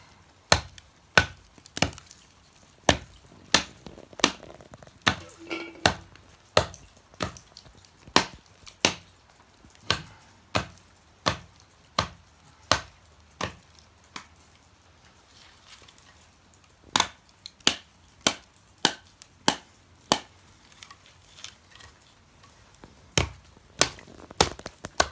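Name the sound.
chopping wood for a campfire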